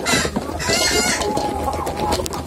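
Farm chickens kept in a pen cluck continuously in a loud, busy chorus, close by, with faint rooster-like calls mixed in.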